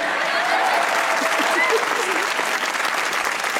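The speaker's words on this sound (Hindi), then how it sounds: "अपनी तालियां बजाइएगा।" A studio audience at a stand-up comedy show applauds steadily and fairly loudly throughout, with a few voices mixed into the clapping.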